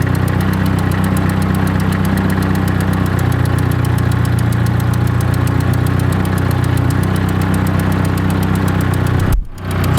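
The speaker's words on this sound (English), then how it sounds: "Now it's starting to idle." A Nissan 240SX engine idles steadily at close range, a constant low rumble with faint knocking, cutting off abruptly near the end.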